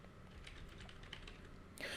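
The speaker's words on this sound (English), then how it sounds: "here I was typing it out one character at a time" Keys on a computer keyboard are tapped one character at a time, making a quick run of soft, close clicks followed by a brief louder rustle at the end.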